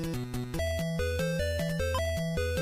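Chiptune melody from Tetris on the Game Boy, a bright square-wave tune with a bouncing bass line, stepping through short repeated notes at a steady brisk tempo, loud and alone.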